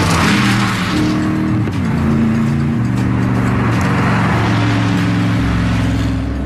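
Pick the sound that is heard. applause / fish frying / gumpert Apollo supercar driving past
gumpert Apollo supercar driving past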